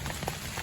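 Steady rain falls on an open field during a muzzleloader deer season hunt, a brief, even wash of close patter with no voices.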